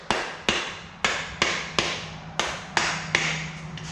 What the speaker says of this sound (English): This is the point where now I tap down the caps.